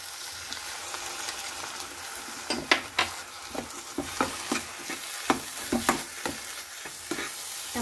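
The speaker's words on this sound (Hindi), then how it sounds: "टमाटर के साथ ही इसमें अब डाल दीजिए पाव भाजी मसाला।" Chopped vegetables and tomatoes for a spicy veg burger filling sizzle steadily in a hot pan, with a series of sharp spatula scrapes and stirring clatters that punctuate the frying hiss close up.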